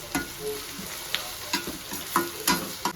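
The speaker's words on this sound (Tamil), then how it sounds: "அதில் கொஞ்சம் கருவேப்பிலை சேர்த்துங்க. அதை நல்லா வதக்கிக்கணும்." Curry leaves sauté in hot oil for a stingray fish curry, crackling close by with a steady sizzle and repeated scraping clicks of stirring, free of voices.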